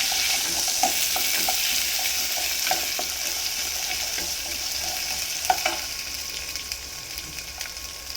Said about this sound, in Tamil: கடுகு இதெல்லாம் பொரிஞ்சோன்னே பூசணிக்காவை போட்டுருவோம். போட்டு வதக்கம் வைக்கலாம்.